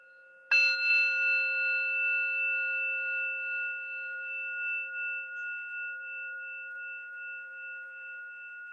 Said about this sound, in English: I'm going to ring this gong and just listen to the sound all the way to the end